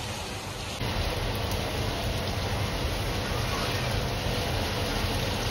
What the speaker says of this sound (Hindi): ये बारिश बारिश बारिश बारिश बारिश बहुत तेज पड़ रही है